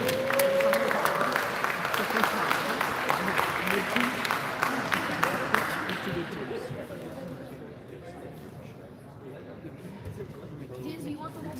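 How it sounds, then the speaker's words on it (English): Audience applause and crowd chatter for the referees at a FIRST Tech Challenge robotics qualifier, loud broadband clapping for about six seconds, then fading into a quieter hubbub of voices. "Let's get another round of applause for the referees."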